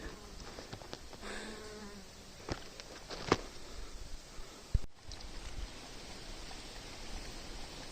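Honeybee and bumblebee gathering nectar on flowers outdoors in the Carpathian mountains, a faint continuous buzzing hum close by with a few brief knocks, no talking.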